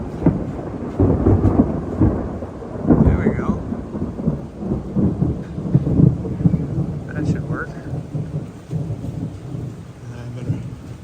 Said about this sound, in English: it does rain in the Philippines, even though it's not officially rainy season